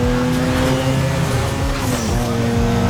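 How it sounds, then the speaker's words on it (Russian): A car engine in the racing game NFS Most Wanted Pepega Edition, a loud, continuous droning rev with shifting tonal pitch, steady and close throughout. "а у некоторых авто заменен звук двигателя на более реалистичный"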